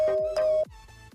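Latest ringtone previewed on an Android phone: a short synthetic melody of sustained tones with a steady low repeating beat beneath, playing clearly and alone without talk.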